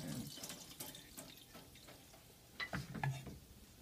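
Okra pods being roughly washed under a running kitchen tap for a chicken and coconut milk curry, with light water splashing and handling noises close by, fairly quiet and uneven.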